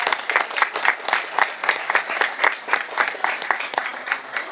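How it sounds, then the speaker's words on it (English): A room at a board of education meeting fills with steady applause, many hands clapping together for several seconds before it fades slightly toward the end. "One more round of applause."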